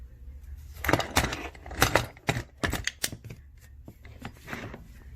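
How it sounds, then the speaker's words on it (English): Loose parts rattle inside the gearbox of a rusty, pitted Ixion hand drill, giving irregular close clicks and clatters in short bursts with quiet gaps between them. "Something's rattling inside the gearbox."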